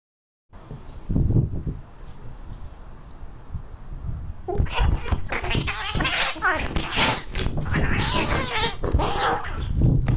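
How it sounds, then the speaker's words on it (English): A cat wearing a camera makes scattered sounds under loud, continuous talk and noisy movement, with brief vocal bursts mixed into the busy commotion. "A dude put a camera on his cat."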